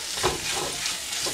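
Andhra-style prawn masala sizzles loudly in an open pan while being mixed, a dense crackling hiss with quick stirring pulses.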